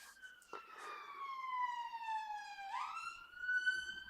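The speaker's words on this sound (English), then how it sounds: "That was an ambulance going past. Up the high street." An ambulance siren wails past along a high street, its falling and rising tone sweeping clearly and fairly close, with no talk over it.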